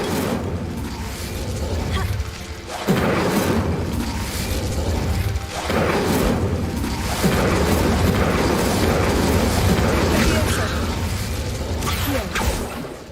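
Incendio fire spells are cast in the Hogwarts Legacy video game: repeated heavy fiery bursts and whooshing blasts land every few seconds over a dense, loud rumble of combat effects.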